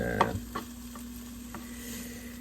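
Pork for shouga-yaki fries in a pan with a soft, steady sizzle, broken by a few light stirring taps and scrapes close by, with no voices.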